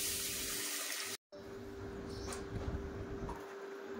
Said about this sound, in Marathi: 2 वाटी तांदूळ, 1 वाटी पोहे 2-3 वेळा पाण्याने स्वच्छ धुवून घेणार आहे